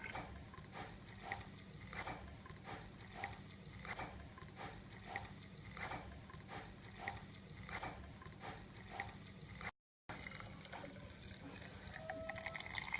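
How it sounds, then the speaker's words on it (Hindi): Water pours into a car's windshield washer fluid reservoir, making a steady, continuous splashing trickle that runs close by for the whole stretch, with one brief dropout near the end. "अब देखते हैं हम इसमें कितना पानी हम डालते हैं।"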